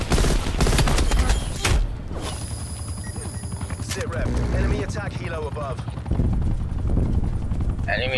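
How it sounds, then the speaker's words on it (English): An enemy attack helicopter in Call of Duty Cold War thrums under rapid bursts of gunfire and mechanical clatter, while a player talks over the action. "Enemy attack helo"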